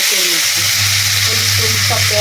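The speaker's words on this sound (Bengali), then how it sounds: "এখন আমি এই যে এখন মশলাটা দিয়ে দেবো এঁচোড় চিংড়ির জন্য" Spice paste for a jackfruit and prawn curry hits hot oil in a pan, giving a loud, continuous frying sizzle with soft stirring scrapes throughout.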